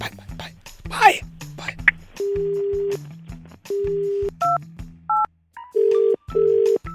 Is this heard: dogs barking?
no